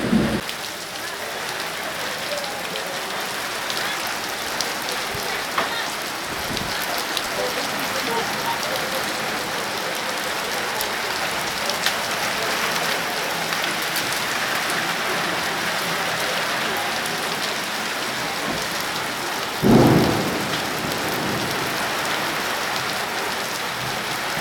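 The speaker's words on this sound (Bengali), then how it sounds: "আল্লাহর রহমতে আমাদের এখানে বৃষ্টি আইতাছে" Heavy rain pours steadily on surfaces nearby, a dense, continuous hiss that holds its level throughout, with a brief louder burst near the end.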